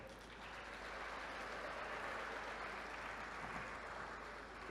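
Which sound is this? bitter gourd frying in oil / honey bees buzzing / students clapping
students clapping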